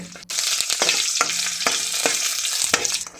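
Dried red chillies crackling in hot oil with curry leaves and mustard seeds, a loud, close, continuous sizzle broken by repeated spatula scrapes and pops.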